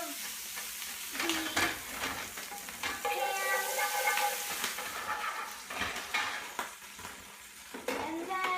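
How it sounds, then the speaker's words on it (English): A pan is deglazed with white wine while a utensil scrapes up the fond, bringing a lively sizzle, bursts of bubbling and repeated close scraping strokes. "Do a couple splashes of this white wine. And then I'm going to get all of this fond off of the"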